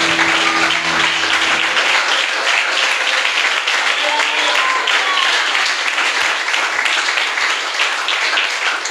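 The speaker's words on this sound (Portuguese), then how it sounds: "bate palma para Jesus e glorifica Ele." Church congregation applauding, a dense and loud sustained burst of many people clapping that carries on for several seconds, with a brief tone and faint voices under it at the start.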